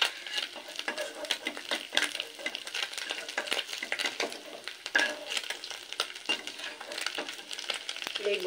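Small Piali fish being lifted out of hot frying oil in a kadai, a steady close sizzle with repeated metallic clinks and scrapes of the spatula against the pan, no talk.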